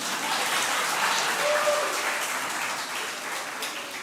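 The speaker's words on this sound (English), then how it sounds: "okay, clap for Kayla." A crowd applauding steadily for a few seconds at a CXC exam results ceremony, a dense wash of clapping at an even level with no voices standing out.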